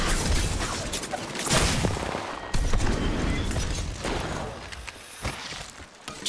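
Rapid gunfire in the video game Apex Legends, dense bursts of shots and booms close up and loud, continuing throughout with brief lulls and whooshing effects.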